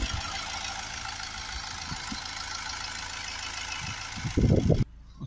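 A Honda Accord 2.2 diesel engine idles with a steady, even hum, near and moderately loud, with a brief louder burst just before the sound cuts off.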